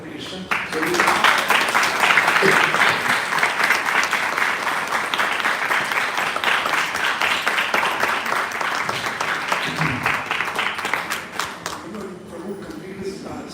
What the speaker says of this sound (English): It was a little baby who was clapping.